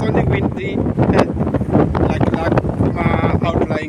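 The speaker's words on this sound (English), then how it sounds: "The wind is very strong." Strong wind in Durban buffets the microphone in loud, gusty rushes, with faint talking buried beneath the roar.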